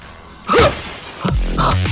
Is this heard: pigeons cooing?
no